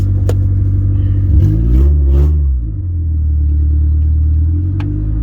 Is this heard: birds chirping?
no